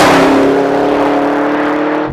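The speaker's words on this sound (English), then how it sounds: "Crossing the start-finish line in the Camaro ZL1." Chevrolet Camaro ZL1 at full throttle on the Laguna Seca race track, a loud, steady high-revving engine roar with strong harmonic drone close to the microphone for the whole stretch, no talk.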